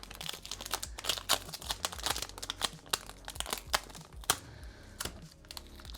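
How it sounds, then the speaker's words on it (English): Pieces of tape pulled and pressed down on card packaging, quick close crackling rips and crinkles in irregular bursts, fairly quiet with no voices. "I'll just do 2 pieces of tape."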